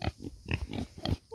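Pigs grunting up close, a quick series of short low oinks in uneven rhythm.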